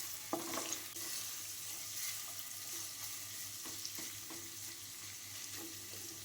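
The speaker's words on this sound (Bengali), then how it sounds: "এবার এই সবগুলোকেই খুব ভালো করে নেড়ে চেড়ে নিতে হবে, একদমই ভাজা ভাজা করে নিতে হবে" Water spinach with green chili stir-fries in a hot pan, giving a continuous close sizzle broken by a few sharp scrapes and clicks of stirring, with no voices.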